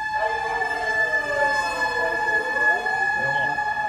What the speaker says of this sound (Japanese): もう救急車来るし最悪のタイミングやんだもん